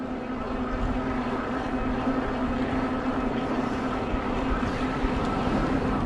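SONDORS MXS electric bike climbing a hill, a steady motor whine with wind and road rumble, continuous and fairly loud close to the rider throughout.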